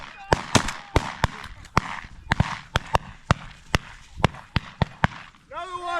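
Sharp, loud cracks in quick irregular succession, about fifteen over several seconds, from gunfire during a bird hunt with dogs, some nearer and some further off, with a voice briefly calling out at the end.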